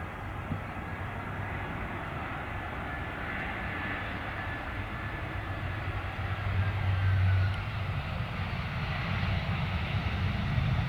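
Plane landing at London Stansted Airport with reverse thrust engaged, a broad steady engine roar heard from a distance that swells toward the end.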